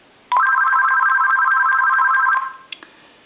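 An AT&T EP9559 cordless telephone, just repaired after a faulty diode, rings with one loud, close, warbling electronic trill lasting about two seconds, followed by a couple of faint clicks.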